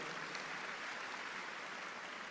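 Applause from a church congregation during a Christian sermon, a steady wash of many hands clapping at low level that holds evenly throughout without pause.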